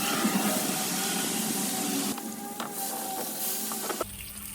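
Bacon strips laid out on a hot Blackstone flat-top griddle give a continuous close sizzle and spatter that briefly drops and then resumes with sharper pops, no talking.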